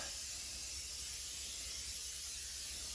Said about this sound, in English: With this spray, sort of just spray it down pretty liberally.